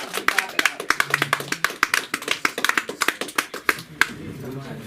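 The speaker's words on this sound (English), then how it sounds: "Clap it up" Audience at a comedy show clapping for a comedian, with distinct sharp claps from a smallish crowd that rise into a lively burst and then thin out into scattered claps, with voices chattering underneath.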